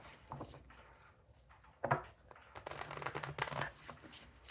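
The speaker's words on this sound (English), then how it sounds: "Do 2 more shuffles." Tarot cards are shuffled by hand, a few riffling, papery bursts and soft taps with short pauses between them, close and quiet, with faint background sound and no talk.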